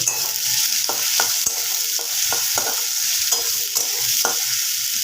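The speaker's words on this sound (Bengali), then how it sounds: "পেঁয়াজটাকে একটু ভাজা ভাজা করে নেব" Onions sizzle in a pan for a thin chicken curry while a spatula scrapes and taps against the metal at irregular moments over a steady frying hiss.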